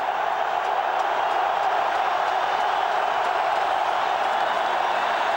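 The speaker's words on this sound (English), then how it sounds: "3rd and 15 from the 22, and the crowd is fully into it." A packed stadium crowd at a 1999 NFC Wild Card football game between Detroit and Washington keeps up a dense, unbroken roar, loud and even throughout with no separate claps.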